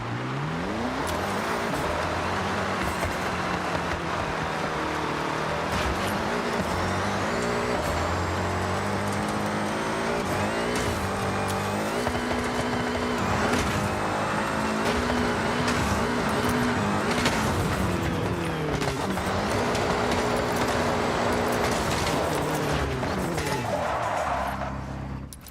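A Mazda Miata FE drives off-road in the racing game Forza Horizon 6, its engine droning continuously and shifting pitch through gear changes, with tire and surface noise layered over it and no talking.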